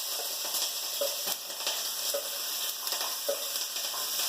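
Peppers, onion and jalapeño sizzle and crackle in a very hot pan for a stir fry. The frying hiss is steady and close, with occasional stirring scrapes and no voices.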